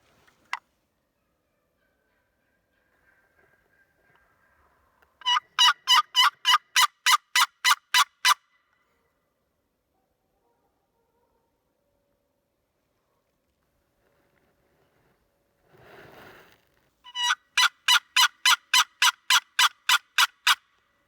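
Two bursts of rapid, rhythmic wild turkey clucking, about ten quick notes each, separated by quiet, with a soft rustle just before the second burst, in Minnesota.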